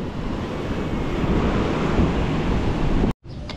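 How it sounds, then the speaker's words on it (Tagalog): Big ocean waves crash and roar continuously, loud and close, with heavy wind buffeting the microphone, cutting off abruptly near the end before the surf resumes faintly. "Malaki lang alon."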